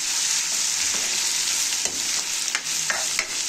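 Onions frying in a pan on low heat, a steady broadband sizzle throughout with occasional soft stirring scrapes, close and continuous with no talk.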